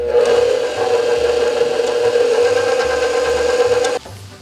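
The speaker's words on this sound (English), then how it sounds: "then mix that all together before we add the dry ingredients" Eggs, egg yolks, granulated sugar and almond extract whipped together by an electric mixer, giving a steady, loud whirring drone that runs for about four seconds and then cuts off abruptly.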